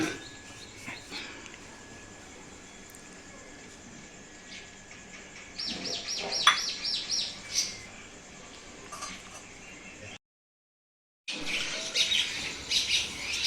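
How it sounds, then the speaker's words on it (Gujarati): Mynas, crows, parrots and sparrows call from a rooftop where grain is being scattered, with scattered chirps and tweets layered over a steady background, briefly cut out near the end before the calling resumes. "કાબરો કાગરા પોપટ દેવલીઓ બધું આવી ગયું છે"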